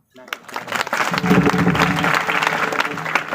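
A crowd at a comedy kirtan in Nashik bursts into loud, sustained applause that keeps going steadily to the end.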